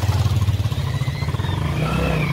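A motorcycle rumbles steadily while being ridden on a road in Bihar, a loud, close engine drone with pulsing low throb and slight rise toward the end.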